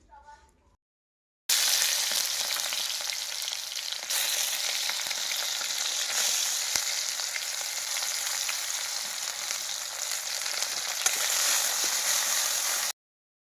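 Onion, ginger, garlic and tomato hit hot mustard oil and fry with a loud, steady broadband sizzle that starts abruptly and holds close for about eleven seconds, with brief stirring shifts partway through.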